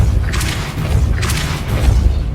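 Repeated Depulso spell blasts in Hogwarts Legacy, loud booming whooshes arriving in a quick rhythm, three or so pulses over a low rumbling bed, no voice over them.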